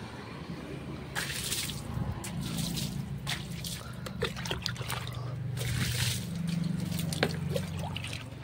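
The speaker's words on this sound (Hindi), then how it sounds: "बाइक में पूरा पानी मार के पहले फुला लेते हैं" Water is sprayed over a motorbike during washing, a steady splashing and trickling wash with intermittent bursts of spray and dripping, fairly close and moderately quiet throughout.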